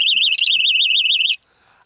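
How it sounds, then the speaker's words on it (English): A panic alarm worn during a magic escape stunt in a water tank sounds a loud, rapidly warbling electronic tone for just over a second, then cuts off into near silence. "So he's obviously got that panic alarm on him. That noise we do not want to hear"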